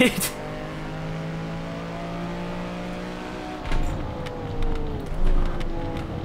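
A modded race car in the Assetto Corsa racing game roars with a sustained engine tone that drops as it shifts, followed by rising revs, close and loud.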